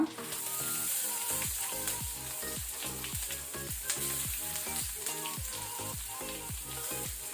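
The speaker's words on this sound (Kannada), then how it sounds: "ಈಗ ನಾವು ಇದಕ್ಕೆ ಆನಿಯನ್ ಈರುಳ್ಳಿ ಹಾಕೊಳ್ಳುವ." Onions tipped into garlic frying in a pan for long beans sukka, a loud continuous sizzle with a rapid rhythmic crackle throughout, close up and without talk.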